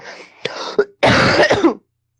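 A few throaty coughs up close, a short hack followed by a longer, rougher burst, then silence.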